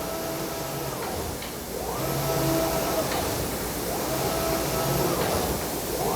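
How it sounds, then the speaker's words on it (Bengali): Garment printing machine in a clothing factory printing a kamiz sleeve, producing a steady mechanical whir and hiss with recurring sweeping passes of the print head every couple of seconds. "এখন যেটা প্রিন্ট হচ্ছে এটা হলো"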